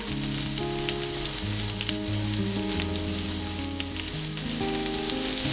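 Lamb chops sizzle and fry in a hot pan, a steady close crackling hiss with small pops throughout and no talking.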